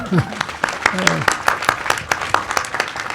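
Crowd at a talk on Europe and Brexit gives a burst of hand clapping, dense and steady, with a voice speaking over the applause throughout.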